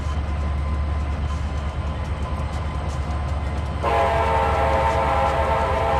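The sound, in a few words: train and horn in Trainz 2022 video game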